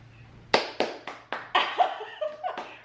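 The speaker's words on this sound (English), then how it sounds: "Round of applause for that" A few people clapping near the microphone during a plant shopping outing, a handful of sharp, spaced claps building into a short ragged burst, with light laughter mixed in.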